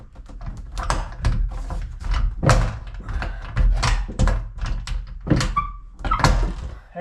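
A sliding closet door is pushed inward and worked out of its track, giving a run of repeated knocks, thunks and rattles close by over about seven seconds, with no talking.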